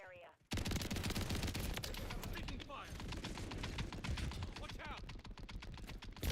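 Rapid, continuous automatic-style gunfire from a 12 gauge shotgun with invisible bullets in a first-person shooter video game, close and loud, with game sound effects mixed in throughout.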